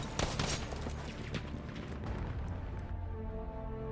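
A Gewehr M95/30 rifle fires in Battlefield 5, several sharp shots in quick succession at the start, then fading battlefield rumble.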